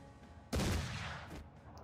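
A single aimed shot from a gun in Mordheim: City of the Damned, a sharp loud blast that breaks out of quiet and trails into a lingering rumbling tail.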